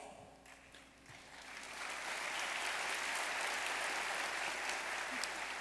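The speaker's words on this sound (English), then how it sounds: "I appreciate that group applause" After a brief quiet moment, an awards ceremony audience breaks into group applause for the sponsors, the clapping swelling and holding at a steady, full level in a large hall.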